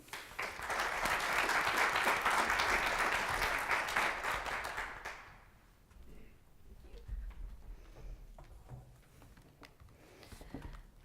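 Audience applause greeting a lecturer at Linfield, a sustained burst of clapping for about five seconds that fades out, followed by quieter room sounds and a voice beginning to speak.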